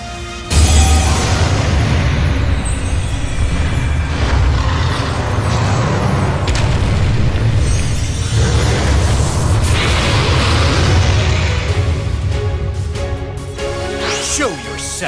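Blue-Eyes White Dragon's attack in a Yu-Gi-Oh video game, a long, loud roaring explosion with sustained rumbling bass and bursts of crackle that swells and holds for many seconds before fading.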